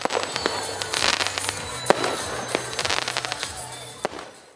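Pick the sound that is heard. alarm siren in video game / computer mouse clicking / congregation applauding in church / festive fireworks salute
festive fireworks salute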